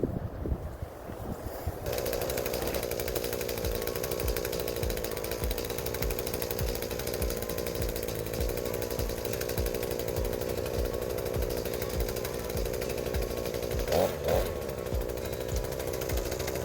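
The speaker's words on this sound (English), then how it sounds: "tree pruner, which is essentially a chainsaw on a stick" A loud, steady pole saw drones almost without break while cutting maple tree branches, with a brief rise in pitch near the end as it bites into wood.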